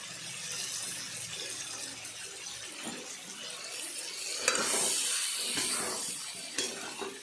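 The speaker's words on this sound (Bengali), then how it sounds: "তারপর সেটাকে ভালো করে নাড়াচাড়া করলাম।" Soybean curry is stirred in a pan, giving a continuous wet scraping and sizzling texture with occasional clinks, with no talking.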